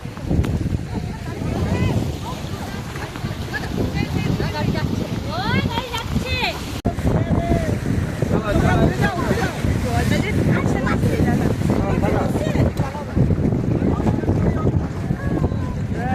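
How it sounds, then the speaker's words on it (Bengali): Water sloshes and slaps against a boat on a river amid gusty wind buffeting the microphone, with people talking and calling out throughout. "ঢেউগুলো আসছে আর পুরো কাঁপিয়ে দিচ্ছে আমাদের সবাইকে"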